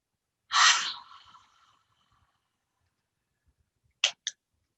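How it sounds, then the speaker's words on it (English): A deep breath during a heart chakra yoga session, one long, airy inhale-exhale close to the microphone that fades into quiet, followed later by a couple of brief soft clicks. "And now take 3 deeper breaths."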